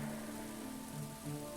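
Rain patters steadily on a surface, a soft, even hiss of drops at low volume with no voices.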